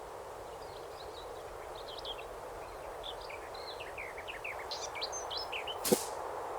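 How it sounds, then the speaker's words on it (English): Native birds chirp and call in repeated short bursts over steady outdoor background noise on the Kiawah Island Ocean Course, growing busier toward the end, with one sharp brief sound near the close. "I just noticed the bird sound effects."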